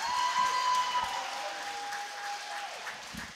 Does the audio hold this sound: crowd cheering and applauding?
yes